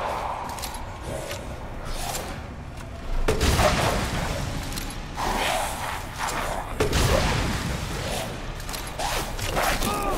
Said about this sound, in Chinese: 我决定换个榴弹枪。